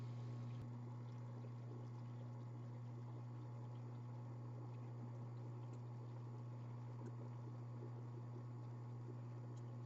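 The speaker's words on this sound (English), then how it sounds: "And let me turn my pump on." A lab pump runs in a chemistry setup, giving a steady, continuous mechanical hum with a low drone and a wash of broadband noise that holds unchanged from start to finish.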